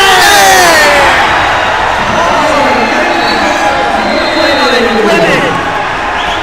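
A high school varsity boys basketball crowd roaring and cheering after a steal, loud and sustained in a gym, with excited commentary talking over it.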